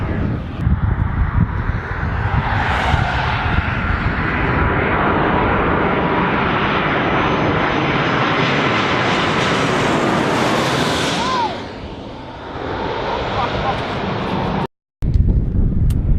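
A heavy aircraft roar swells loud and steady for most of the stretch, broadband and rumbling, easing briefly near the end with wind buffeting the microphone, near Zurich Airport.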